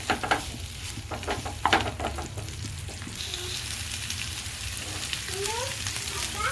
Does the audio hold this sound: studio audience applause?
no